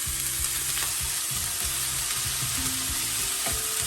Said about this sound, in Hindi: 3 से 4 मिनट मेथी फ्राई करना है